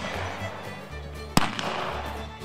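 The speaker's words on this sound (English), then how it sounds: "We're shooting a modified blank. There's no wadding. There is a primer." A single sharp gunshot from a modified blank loaded with number two cannon powder, fired outdoors with no wadding; one loud crack midway through a steady background hum.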